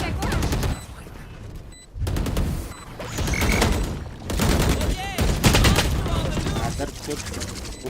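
Rapid bursts of gunfire in the Valorant video game, loud repeated crackling volleys with short gaps between them, while a player talks over the shooting.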